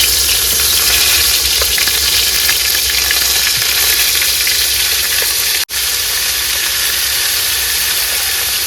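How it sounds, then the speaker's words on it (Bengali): Crab frying in hot oil sizzles and crackles continuously and loudly close by, a dense frying hiss with a brief cut partway through. "এবার কিন্তু মাছগুলো এক এক করে ভেজে নেবো প্রথমে কাঁকড়া দিয়ে শুরু করি"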